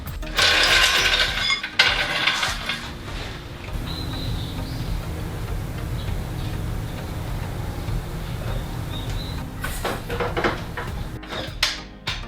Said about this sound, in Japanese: そうか、最初ジャッキで上げないと。